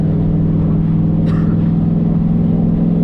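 A turbocharged Ford Mustang with more than 500 horsepower and 10 pounds of boost cruises along, its engine a loud, steady drone heard from inside the car, with no talk.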